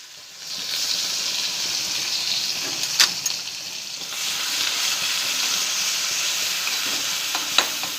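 Ground masala with homemade black spice mix, red chilli powder and turmeric roasting in a pan, a bright continuous sizzle that swells after the first second, with a few clicks of a stirring spoon and no talk.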